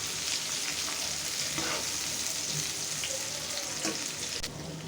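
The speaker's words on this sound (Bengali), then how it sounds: "একটু পেঁয়াজটা হালকা ভেজে নেব" Chopped onion and green chillies fry lightly in oil in a pan, giving a soft, steady sizzle heard close up with no talking.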